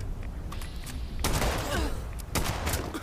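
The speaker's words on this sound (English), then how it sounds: "Why are my shotguns doing so little damage?" Shotguns fire in the online video game Fallout 76, a cluster of rapid blasts with a heavy burst in the middle and another after it, loud over a constant background rumble of game sound.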